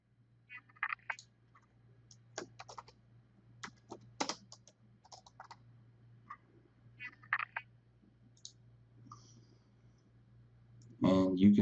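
Computer mouse clicking at a desk, a series of soft, sparse clicks spread across several seconds over a low steady hum, followed by a louder burst at the end.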